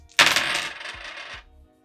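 Dice are rolled at a table during a cash-stuffing savings challenge, giving one sharp clatter that rattles briefly and settles within about a second and a half.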